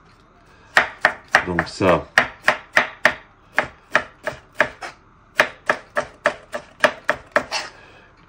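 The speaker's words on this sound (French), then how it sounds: "Donc on va émincer le poivron." A knife chops through a bell pepper on a cutting board in quick, sharp, evenly spaced knocks, about twenty strikes, close and crisp, with a brief spoken phrase at the start.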